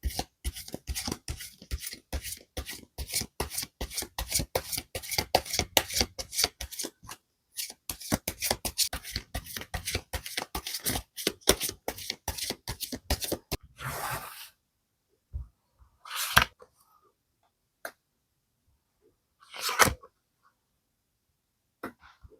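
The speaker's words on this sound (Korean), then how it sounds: "카드 실시간으로 뽑아서 보도록 하겠습니다" Tarot cards are riffled and shuffled in a long, rapid run of crisp flutters for about fourteen seconds. After a pause come a few isolated card snaps and slides, close and clear, with no talking.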